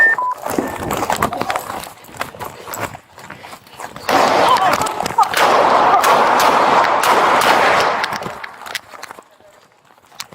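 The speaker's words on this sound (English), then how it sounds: "10 more shots fired. Shots fired." Gunfire during a police officer-involved shooting, captured on an officer's body-worn camera: sharp bursts and a loud, dense stretch of commotion dominate the middle, with people shouting around it.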